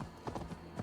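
Horse hooves clip-clop in a video game, a few quick soft hoof strikes in an uneven cluster, fairly faint and close.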